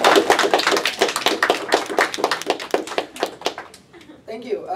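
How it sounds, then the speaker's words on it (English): An audience claps at a press conference, a dense burst of hand claps that thins out and fades toward the end, with some talking mixed in. "So I want you guys to give them all a clap."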